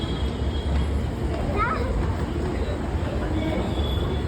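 Steady rumble of a Pune metro train in motion, loud and continuous, with a faint squeal and people talking nearby.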